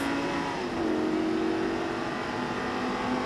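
A Lamborghini sports car engine roars steadily as it accelerates, a loud continuous drone with rising pitch and no voices.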